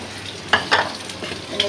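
Garlic dry-roasting in a pan, a few soft scraping and stirring strokes with faint crackle, brief and close, with quiet gaps between the movements.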